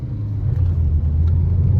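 A car engine rumbles low and steady at close range as the vehicle speeds away, with a continuous heavy drone and no voices.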